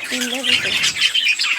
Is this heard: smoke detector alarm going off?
no